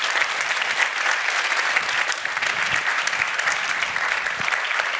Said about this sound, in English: Please give a warm applause for Luca Guadagnino.